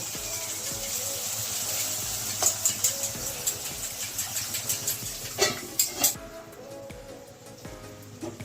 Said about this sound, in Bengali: আর একটু পেঁয়াজ ভাজা হবে